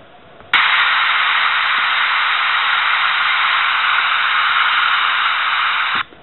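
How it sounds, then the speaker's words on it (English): Steady hiss of TV-style static played from a dog whistler app on an iPod Touch 4th generation, starting abruptly after a click and holding at a constant loud level for about five and a half seconds before cutting off. "this is a static sound here from the TV"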